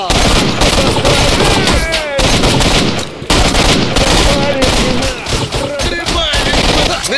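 Bursts of automatic gunfire rattle in S.T.A.L.K.E.R.: Shadow of Chornobyl, rapid loud shots in repeated volleys with brief gaps, while voices shout in between.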